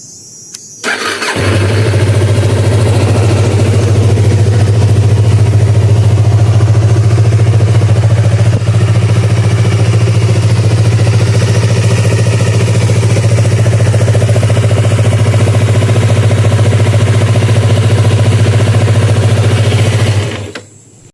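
Stock Yamaha MT25/R25 motorcycle engine starting up, then idling steadily with a loud, even low hum for about twenty seconds before shutting off.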